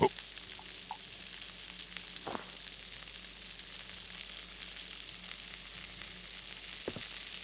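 Steak cooking in a pot in the 2021 video game Adios on Xbox Series X gives a steady, close sizzle throughout, with a few faint clicks and knocks on top.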